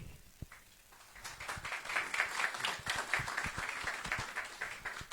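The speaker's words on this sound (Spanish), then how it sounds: "Es momento de recibir con un fuerte aplauso a nuestra máxima autoridad del Banco Central de Bolivia, Edwin Rojas Ulo." Applause from a crowd at a book launch in Bolivia swells after a brief pause and continues steadily, a dense patter of clapping hands filling the room.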